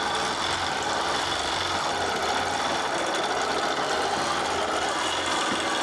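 A quilting sewing machine stitches steadily along lines, its motor hum and needle rattle running continuously and fairly loud throughout, with no talk over it.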